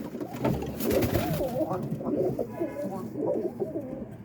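Roller pigeons coo in a small backyard coop in Boston, Massachusetts, a dense, close chorus of throaty, overlapping coos that fills the whole stretch, with a voice mixed in briefly.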